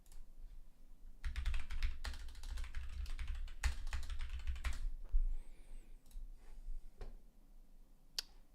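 Rapid keystrokes on a computer keyboard, typed in close bursts with brief pauses between runs and a few isolated clicks near the end.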